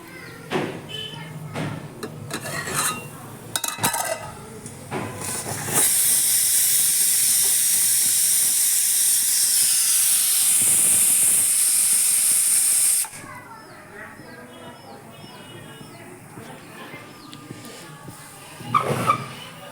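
Steam hisses loudly from a pot of tripe boiling on a home stove, with milk also heating nearby; a steady broadband rush swells in midway and holds for several seconds before cutting off, with kitchen clatter around it.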